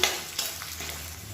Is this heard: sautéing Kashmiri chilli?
yes